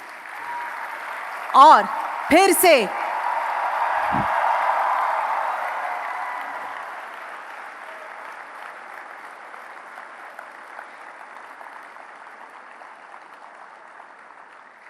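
At the Semicon India Conference 2023 in Mahatma Mandir, Gandhinagar, an audience applauds the Prime Minister in a broad wash that swells then slowly fades. A host speaks briefly near the start over it.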